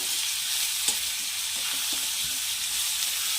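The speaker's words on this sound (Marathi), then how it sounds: "तिखटला शेंगा ॲड करते छान मिक्स करून घ्यायचं" Cluster beans with chili powder sizzle steadily in a hot pan as they are stirred, a continuous bright frying hiss with a few soft spatula scrapes and taps, close and even, with no talking.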